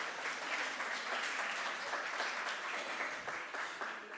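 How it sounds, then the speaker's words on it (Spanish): Steady applause from a congregation-style audience, dense continuous clapping heard at a moderate distance with no break across the whole span. "El aplauso para el Señor."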